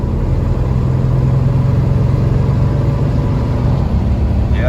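A 1966 Buick Wildcat with a Turbine 400 transmission pulls hard in second gear, its V8 engine holding a loud, steady rumbling drone heard from inside the car with a faint rising tone late on.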